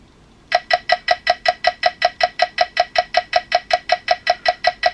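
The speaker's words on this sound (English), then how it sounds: "So now Now I have an incredibly fast metronome." A very fast metronome at 320 beats per minute ticking alone, sharp bright clicks in a rapid, perfectly even stream after a brief quiet start.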